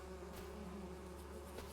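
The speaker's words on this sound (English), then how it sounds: "the bees have woken up, they started going out again" Bees buzzing around hives during spring honey production in a logging roleplay video game: a steady, close, droning hum of many insects, with a few louder passes of individual bees.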